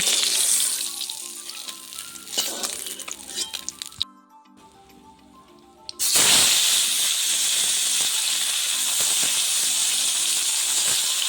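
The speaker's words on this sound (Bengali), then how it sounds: "এবার এক এক করে মাছগুলোকে আমি কড়াই থেকে নামিয়ে নেব, নিয়ে বাকি মাছগুলোকে ভেজে নেব।" Small pond fish such as puti frying in hot oil in a wok, a loud steady hiss and sizzle that drops away briefly, then surges back strong and continuous.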